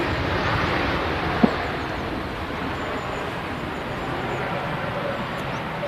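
An Aer Lingus airliner landing at Manchester Airport, a broad, steady roar of jet engine and rushing air that holds for several seconds, heard from outside with wind buffeting the microphone.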